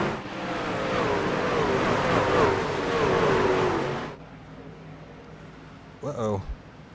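Pack of racing trucks at Bristol roaring off at the green flag, a loud sustained engine drone that cuts off abruptly, then a brief rising whine of a single engine passing near the end.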